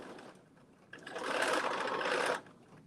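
A sewing machine runs a single steady burst of stitching through fabric, near and alone, lasting about a second and a half before stopping.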